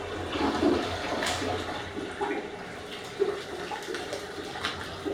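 A household toilet flushes nearby, a rushing swirl of water that tapers into a quieter refilling trickle, heard alone without speech.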